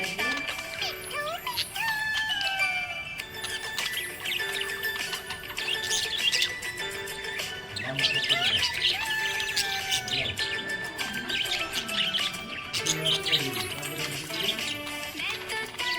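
A happy budgie parrot chirps and tweets in rapid, continuous bursts of high whistles and trills, close and lively over its full length.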